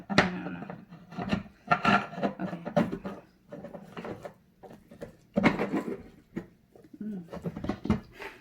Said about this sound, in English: You just have to twist the screw.